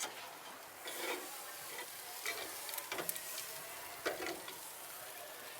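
A giant steak sears on a covered grill, a steady hiss of sizzling fat with scattered crackles and pops, close and without voices.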